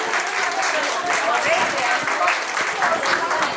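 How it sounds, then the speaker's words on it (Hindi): Applause at a school farewell ceremony honoring a retiring head: a continuous wash of crowd clapping, fairly loud and steady, with voices mixed in beneath. "तालियां जोर से बजनी चाहिए।"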